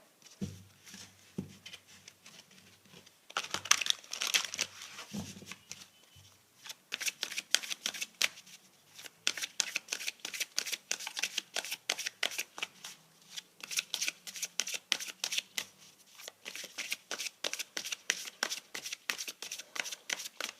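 Tarot cards are shuffled in quick bursts of crisp riffling and fluttering patter, close and fairly quiet, with short pauses between rounds.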